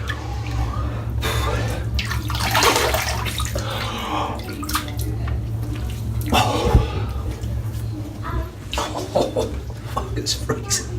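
Ice cold water splashing onto a face in a sink during shaving, with continuous running-water wash and repeated splashes close up, while a voice speaks over it.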